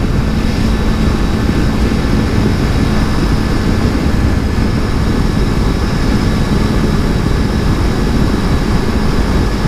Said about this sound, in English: you downshift 2 gears and accelerate